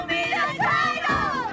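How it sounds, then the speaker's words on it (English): A loud Utah Jazz home crowd roars at the Delta Center during an NBA game, a dense, sustained wash of shouting and cheering that stays full throughout with brief swells and no clear individual voices. "I expect that crowd to be extremely loud."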